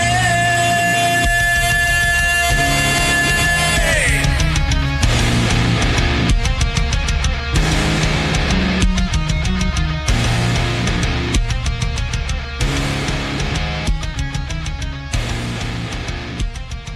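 A song plays loud and full, a sustained synth tone giving way to a driving beat with drums and a repeating instrumental pattern, no talk over it.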